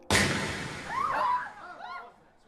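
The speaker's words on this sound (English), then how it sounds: "Was that a gunshot?" A single sharp gunshot effect in an audio drama, loud and sudden with a decaying tail, followed by strained vocal sounds and voices.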